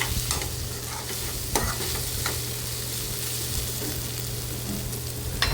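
Chopped tomatoes for egg bhurji frying in a pan with salt, a dense continuous sizzle under a low steady hum, with a few sharp spatula scrapes as they are stirred.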